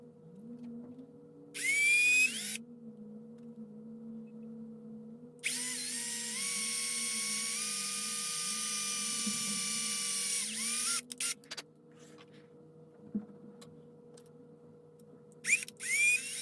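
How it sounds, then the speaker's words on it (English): A power drill bores a hole into a DIY handlebar mount part: one short whining burst, then a longer steady run of several seconds, followed by a few small clicks and knocks. "gonna go ahead and drill a hole into this part"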